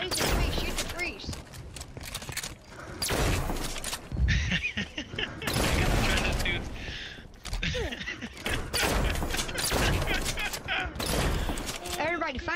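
Rapid bursts of gunfire from shooting in a multiplayer video game, clustered volleys with brief gaps across the clip, loud and close, with players talking over and between the shots.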